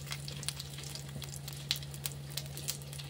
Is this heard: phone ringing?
no